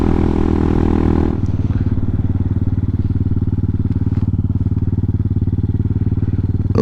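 A Hawk 250 Enduro motorcycle at wide open throttle, its engine a loud, steady, close buzzing drone that runs the whole way through, heavier for the first second before settling into an even pulsing roar.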